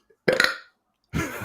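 Two loud, close burps, the first short and sharp, the second longer and rougher, separated by silence.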